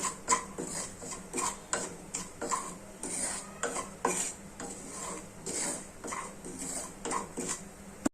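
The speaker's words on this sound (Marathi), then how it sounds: "आपल्याला रवा 2 किंवा 3 मिनिट भाजून घ्यायचा आहे" Semolina dry-roasting in a pan while a spoon stirs it, a quick regular series of scraping strokes and metallic clinks against the pan, with little or no sizzle underneath.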